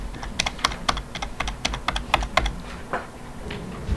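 Rapid, irregular clicking of fingers typing on a computer keyboard, close and crisp, with a steady low hum underneath and no voices.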